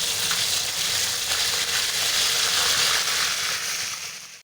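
Tomatoes dropped into hot oil with lightly browned onions while cooking aloo gobi hiss and sizzle loudly. The bright, even frying noise runs steadily for several seconds and fades out at the end.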